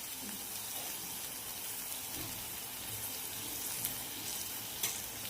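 Steamed cluster beans sauté with spices and salt in a pan, a faint, even sizzle with soft scraping from stirring, continuous and low-level throughout.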